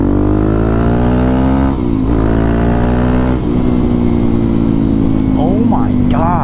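A Suzuki DRZ400 motorcycle with an aftermarket exhaust, 3x3 mod and jet kit runs steadily near and loud, its harmonic engine tone idling and shifting slightly in pitch, with brief dips and other faint sounds toward the end.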